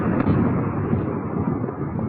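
A petrochemical plant explosion in the city of Ufa, caught by a distant security camera, comes through as a dull continuous roar and rumble, heavily distorted and wind-like, with no voices.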